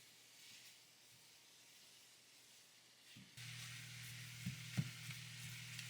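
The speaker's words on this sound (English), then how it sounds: "all I do with the beef is just cook it in a pan" Beef cooking in a pan sizzles faintly with a soft, steady hiss that swells louder partway through, with a low hum and a couple of small clicks beneath it.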